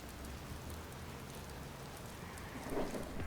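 Steady rainfall in a Watch Dogs video game storm with a graphics mod, a soft constant hiss with a low rumble of thunder swelling near the end, faint and without speech.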